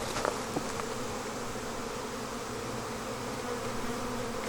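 Honeybees buzzing around a beehive as it is moved, forming a dense, continuous swarm hum at moderate level with a few louder passes close by near the start.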